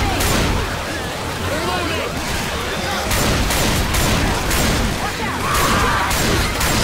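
Continuous heavy gunfire in Left 4 Dead 2 on the custom Death Woods campaign with eight survivors, loud overlapping shots and blasts filling the scene without a break, with voices shouting underneath.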